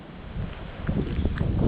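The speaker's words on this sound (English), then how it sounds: "it is a very windy day here at Legoland" Steady wind buffets and rumbles across the microphone at Legoland, growing gustier toward the end, with no one talking.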